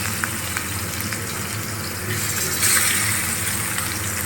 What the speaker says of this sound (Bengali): ভেটকি মাছ খুব নরম তো, ওই জন্য খুব সাবধানে ফ্রাই করতে হবে।